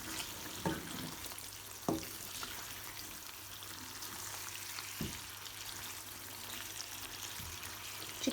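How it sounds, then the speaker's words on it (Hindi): Chicken fries in oil in a karahi, a soft steady sizzle with a few faint clinks and stirring knocks, heard close up and without talk. "ये देखें ऑयल ऊपर आना शुरू हो गया और ये भुन रहा है।"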